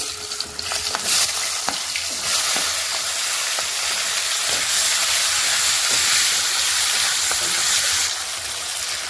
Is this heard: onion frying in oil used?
yes